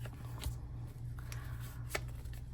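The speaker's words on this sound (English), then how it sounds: "Do one more shuffle." Soft rustling and flicking of a large deck of tarot cards being shuffled by hand, with a few sharper snaps, close and quiet.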